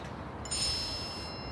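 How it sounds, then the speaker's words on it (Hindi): A phone message notification gives a single soft, high ding that rings on briefly over faint room hiss. "मैसेज आया है"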